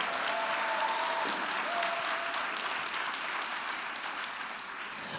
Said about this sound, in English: we applaud her for her service